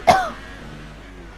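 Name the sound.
cough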